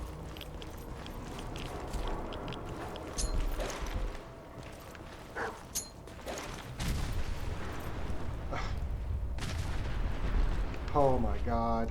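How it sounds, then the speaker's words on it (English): Grenade blasts and gunfire echo through a hardcore, heavily modded single-player Fallout 4 battle, with scattered sharp bursts and booms over a dense, noisy game background, and a voice talking at moments. "We're going to hit him with a couple of red grenades"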